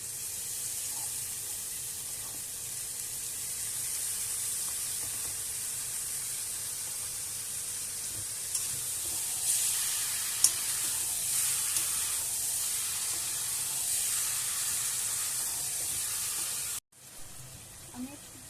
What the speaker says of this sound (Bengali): মশলাটা ভাজতে থাকবো আর গুঁড়ো ভাজতে থাকবো